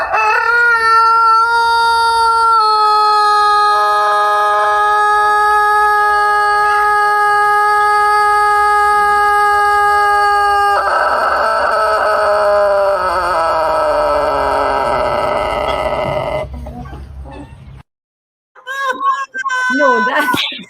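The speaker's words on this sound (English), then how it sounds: "this cock's crow is something special" A rooster gives a single crow, loud, close and drawn out for many seconds in a long, wavering, throaty note. Brief voices follow once it ends.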